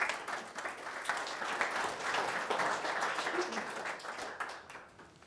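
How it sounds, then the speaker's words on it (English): Sustained audience applause for speaker Catholijn Jonker at a lecture on hybrid intelligence, a steady dense wash of many hands clapping at moderate loudness, tapering slightly at the end. "Please a warm applause for Catholijn Jonker."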